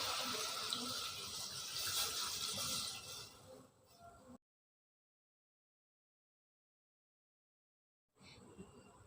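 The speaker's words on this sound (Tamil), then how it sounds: "இப்போ மட்டன் வேகிறதுக்காக தண்ணி சேர்த்துக்கிறேன்." Water poured into a pan of mutton cooking village style, a loud splashing gush for about four seconds that fades into silence, then faint sound returns.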